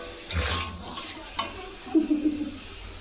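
Meat cooks in a pan on a home stove as a spoon stirs it, giving scattered scraping clinks and soft sizzling over quiet background, fairly faint and close.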